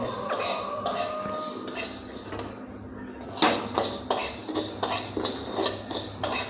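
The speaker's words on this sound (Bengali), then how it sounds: "রাত বারোটার সময় চাউল ভাজতেছি" Rice dry-frying in a pan at midnight, with a metal spoon scraping and clinking against the pan in uneven strokes that grow louder and sharper toward the end, near and moderately loud.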